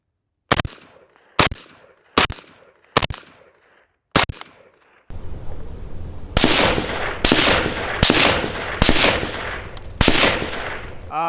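Suppressed gunshots from a Tavor X95 rifle at an outdoor range, about ten sharp reports: five spaced single shots in quiet surroundings, then five more over a louder background hiss, each with a short decaying tail.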